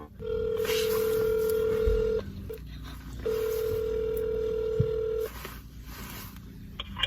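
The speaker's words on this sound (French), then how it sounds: "Là, on va appeler ma grand-mère." A telephone places an outgoing call, two long steady ringing tones separated by a pause, clear and close, with a faint background hum and no one speaking.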